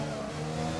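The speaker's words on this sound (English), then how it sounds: "Car's spinning." A race car engine whines at steady pitch with tires squealing as it spins out, a short, loud burst of racing noise from the F1 video game.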